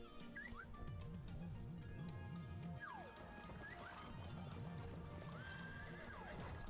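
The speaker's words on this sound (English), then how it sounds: "God, I love that horse noise." A horse in the Clive 'N' Wrench video game whinnies several times, with steady clip-clop hoofbeats and game music running throughout, close and fairly loud.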